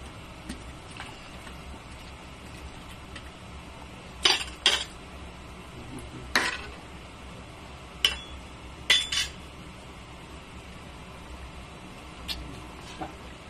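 A spoon clinks against a pot of Filipino binakol chicken soup with papaya being stirred. A few sharp metallic taps come in small clusters over a quiet kitchen background.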